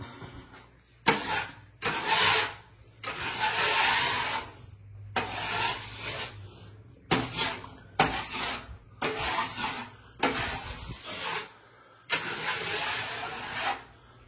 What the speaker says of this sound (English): And I don't like sanding, but I'm going to sand.